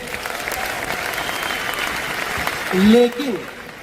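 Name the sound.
audience applause at a stadium event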